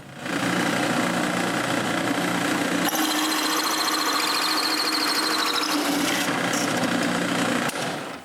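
A large hole saw in a power drill bores a hole through a wood offcut, a steady motor whine and rough grinding buzz running loud and continuous, with a shift in tone partway as the cut proceeds.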